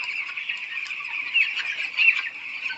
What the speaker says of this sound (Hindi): देखिए इनका दूसरा पोल्ट्री फार्म कैसा है